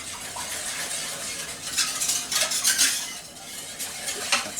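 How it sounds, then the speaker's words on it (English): A whisk stirs Thanksgiving leftover sides in a pot, rapid metallic rattling and scraping in bursts that swell and ease, close and steady with no speech. "I'm just going to whisk this in"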